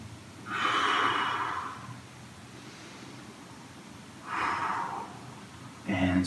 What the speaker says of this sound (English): Taking some deep breaths here.